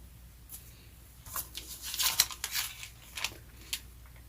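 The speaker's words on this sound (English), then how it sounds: "And I'm going to cut it down the middle." Scissors snip down the middle of a paper bag being made into a junk journal, a series of short crisp cuts and rustles spread unevenly through the quiet, loudest near the middle.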